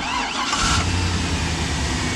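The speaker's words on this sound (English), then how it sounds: "So all we need to do is spin the engine over and it'll start." Gen 3 LS V8 engine cranked over by jumping the relay terminals and catching without a key, a brief starter whirr giving way to a loud, steady idle rumble close by.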